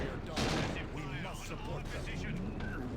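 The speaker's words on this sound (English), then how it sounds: "Kassakin using their grenade launchers." Grenade launcher fire from Kasrkin troops in a Dawn of War 2 3v3 match: a dense wash of battle noise with repeated blasts and gunfire under steady spoken commentary.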